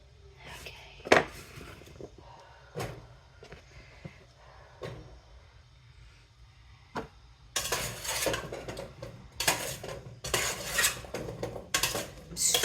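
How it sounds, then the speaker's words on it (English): Sausage, potatoes and green beans are stirred in a pan with sharp utensil scrapes and clanks against the metal, quiet at first, then busier and louder clatter toward the end. "I'm stirring it up"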